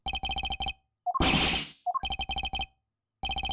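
Phone ringing in the Apollo Justice: Ace Attorney game: rapid bursts of electronic trill rings, loud and close, repeating in quick clusters, broken by a short swooshing effect with chimes partway through.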